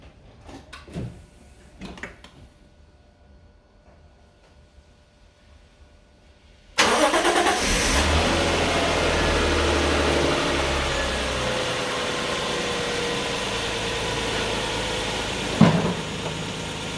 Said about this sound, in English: So let's go crack the engine.